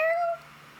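A single short, high tonal meow-like cry that rises then fades, followed by a quiet tail of room noise.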